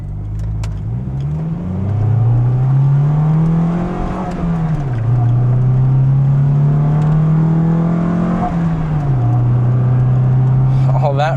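Acura Integra DC4 accelerating hard through the gears, the engine note climbing, dropping at each shift and climbing again, loud and close throughout.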